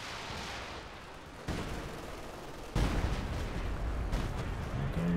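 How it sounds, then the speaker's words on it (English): Stuka dive bomber barrage in a World War II strategy video game, rumbling blasts and dense artillery-like fire that swell in steps and hold at a heavy, continuous roar. "And Stuka lining up for another barrage."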